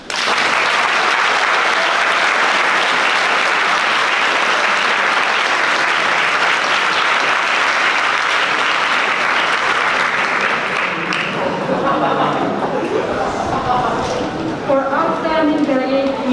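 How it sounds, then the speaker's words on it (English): Audience at a Model United Nations closing ceremony applauding the delegates of the United Arab Emirates and China, with loud, steady massed clapping for about eleven seconds, then fading into crowd murmur and voices. "Please give a round of applause for the delegates of United Arab Emirates and People's Republic of China."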